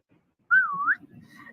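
A single short whistled note that dips and rises again, clear and close against silence, followed by faint murmuring in a webinar setting.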